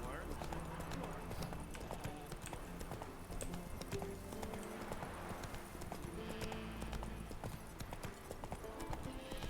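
Roach the horse trotting in the video game The Witcher 3, a steady brisk clip-clop of hooves continuing throughout, close and clear over a background game ambience, with someone speaking over it.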